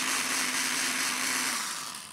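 A blender grinds boiled vegetables with a steady, loud motor whir and a broad, bright churning hiss, holding constant and then easing slightly near the end, with no voices.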